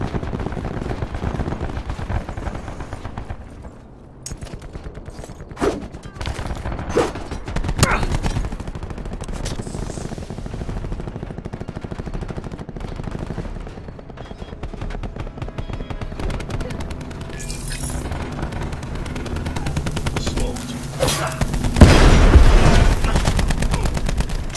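Video game gunfire rattling in scattered automatic bursts and single shots over a long stretch, with a loud close blast near the end, under a constant busy battle background with talk.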